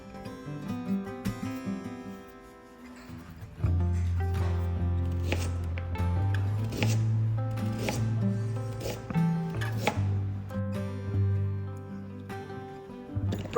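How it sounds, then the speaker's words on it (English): A knife slices peeled ginger on a board in quick, repeated close cuts, a string of crisp chopping taps. The cutting steadies and grows denser after a brief quiet start, with faint clatter in the background and no talk. "Peel and slice the ginger."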